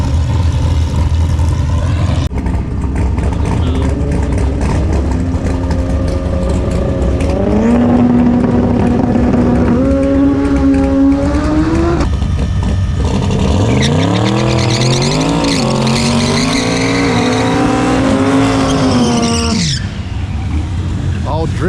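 A race car drifts with loud, close engine revving, pitch sweeping up and down through repeated gear pulls and a sustained rising squeal near the end, with people talking over it.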